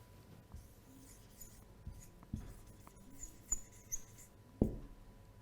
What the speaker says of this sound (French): ce mot que je vais écrire